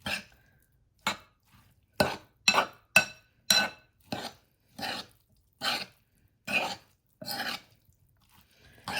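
Guacamole with a teaspoon of kosher salt being folded in a bowl, left chunky: a steady run of about a dozen short, soft, wet scraping strokes, evenly spaced and close, with no voices.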